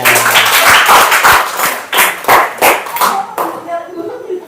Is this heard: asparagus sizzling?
no